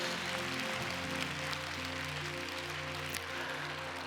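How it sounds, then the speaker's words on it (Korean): Church congregation applauding in a dense, steady wash of clapping over sustained organ-like musical tones, with no speech. "박수로 격려하겠습니다"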